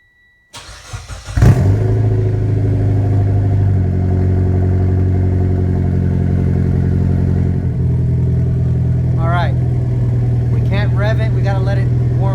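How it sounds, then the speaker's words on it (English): A Mitsubishi Lancer Evo X with freshly upgraded engine parts fires up and settles into a loud, steady idle that holds close by, with brief voices breaking in near the end over the running engine. "Rev it, we gotta let it warm up and let the computer learn the new airflow that it's got going through it"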